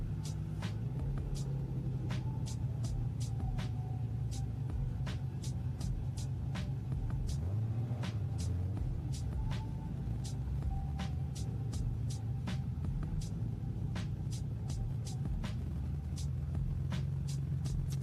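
A BMW Z3 on a quarter-mile run, heard as a steady low engine rumble with a dip midway, overlaid by a rapid series of sharp clicking ticks throughout.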